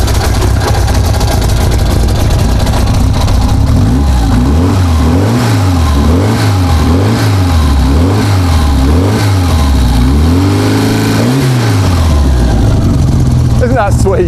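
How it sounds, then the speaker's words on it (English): A rally car's exhaust revs in repeated rising and falling bursts, loud and close, each throttle blip swelling and dropping back in a steady rhythm before settling to a rough idle. "do you want to hear that exhaust? Because it sounds kind of cool in some respects."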